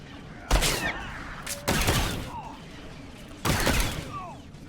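Shots from an Imperial Sniper in the Star Wars: The Old Republic video game: three loud, sharp blasts spaced about a second or more apart, each with a short ringing tail, over quiet game ambience.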